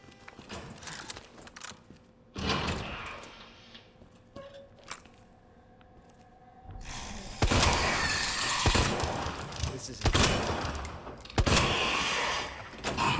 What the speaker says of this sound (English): I'm also going to need the Magnum to take out those lickers.